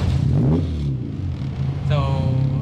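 A strong car engine cold-starting and revving in a workshop after a tune-up, a loud, steady low rumble with a rising rev near the end, with voices talking over it.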